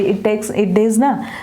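A person imitates a goat's bleat, a wavering, quavering voice repeated in short rising and falling calls.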